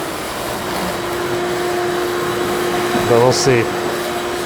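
A shop vac drones steadily throughout while a car gets a basic wash, with someone speaking briefly over the hum near the end.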